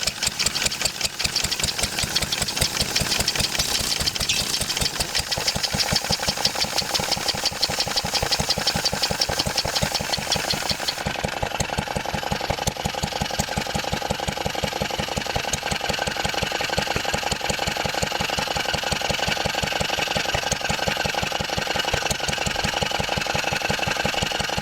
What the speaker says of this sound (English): That clattering sound's just the trolley rattling because the engine's only bolted down with 2 bolts.